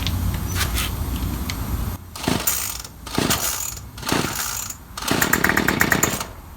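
A primed, fully choked gas string trimmer is pull-started. Loud mechanical bursts come roughly once a second with short gaps between them, then the engine catches into a harsher, sustained rattling run close by.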